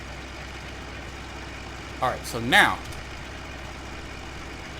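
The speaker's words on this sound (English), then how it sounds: "let's jump in this tractor" A modded tractor in Farming Simulator 2013 idles with a steady low engine hum throughout, while someone speaks briefly over it.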